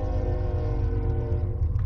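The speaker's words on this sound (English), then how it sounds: "I don't know if you heard that, but there was a train." A train runs past beside the tracks where the recorder sits, its horn holding a sustained, layered tone over a loud, steady low rumble of the cars for the whole stretch.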